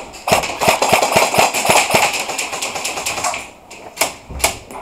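Rapid, sharp airsoft gun shots at an indoor field: a dense run of close, snappy pops, then a few scattered single shots.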